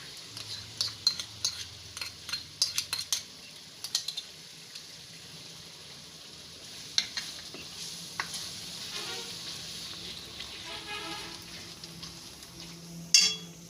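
A spoon stirs yogurt into a soybean curry in a pan, giving soft repeated scrapes and clinks early on, then a low, steady simmering sizzle with occasional utensil taps.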